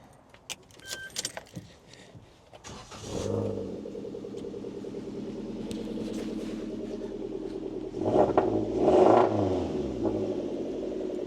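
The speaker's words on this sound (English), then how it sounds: "my favourite bit of this, which is the exhaust, which I shall show you now" A Suzuki Jimny engine starts after a jangle of keys, then idles with a deep burbling sports exhaust and a couple of sharp revs.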